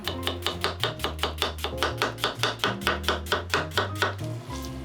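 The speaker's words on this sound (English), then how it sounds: "we're going to start slicing our onions nice and thin" Knife thinly slicing onions on a cutting board: a steady, even rhythm of close, crisp cuts, roughly four per second, over a low background tone, with no voices.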